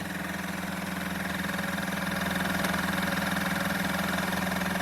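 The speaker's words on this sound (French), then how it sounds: "Après on peut entendre le moteur qui augmente." The small motor of an Oral-B water flosser hums steadily and evenly, close by, with a faint pulsing rhythm and no voices.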